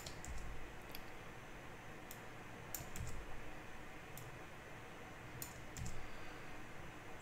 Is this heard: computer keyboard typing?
yes